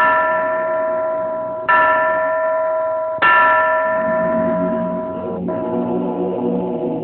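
A church bell tolls three times, each strike ringing out loud and clear, then decaying slowly into a long, shimmering hum before the next blow, with no voices.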